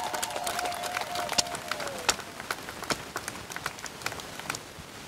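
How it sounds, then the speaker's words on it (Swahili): Applause with scattered sharp claps and a high wavering ululation cry at a Catholic bishop's outdoor blessing and groundbreaking for a new school, moderately near, the trilling call fading out after two seconds. "Makofi na vigelegele."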